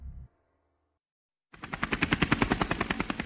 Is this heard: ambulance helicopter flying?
yes